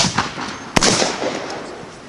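A single sharp volley of gunfire in a simulated battle cracks out once, loud and close, followed by a short decaying echo over outdoor ambience.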